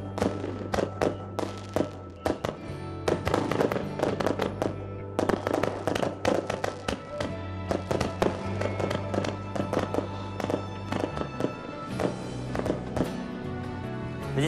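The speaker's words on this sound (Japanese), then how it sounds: "花火のシーンかなと思います" Fireworks crackle and pop in rapid, irregular bursts over a low rumble, with sharp reports scattered throughout.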